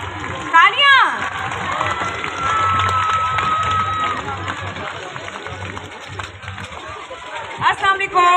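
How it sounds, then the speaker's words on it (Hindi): Crowd at the Masala Family Festival at Expo Centre Lahore, a busy indoor festival, clapping and cheering with scattered shouts and children's voices, a fairly loud, continuous hubbub with sharper bursts near the start and end. "तालियां।"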